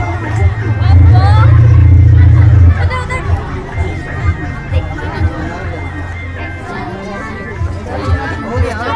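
A crowd gathered for a Republic Day flag hoisting chatters in a dense babble, with nearby voices calling out over a loud low rumble at the start, people talking throughout.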